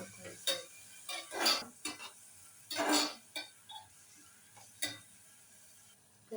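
Fried chicken is stirred in a pan with a handful of irregular metallic scrapes and clinks of a spoon, close and sharp, separated by quiet gaps with a faint sizzle beneath.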